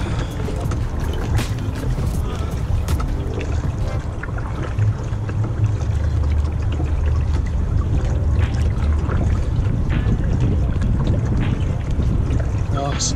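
Kayak paddling on the North Saskatchewan River, with steady splashing and water swirling against the hull under a constant rush of current and wind, while a person talks intermittently.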